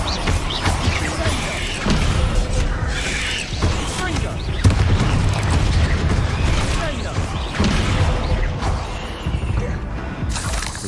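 Incendio fire spell blasts in Hogwarts Legacy combat, dense crackling bursts and booming impacts layered continuously under talking voices and game sound.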